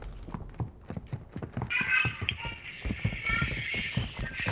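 Enemy footsteps in a tactical shooter match come as a quick run of sharp, rhythmic thuds, moderately close and steady, with a brighter noisy layer joining halfway through.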